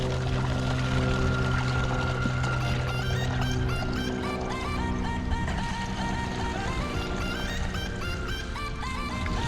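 Gasoline pours steadily into a plastic bottle for a homemade fuel-and-water torch, a continuous close liquid stream with rising gurgling tones as the bottle fills, no talking over it.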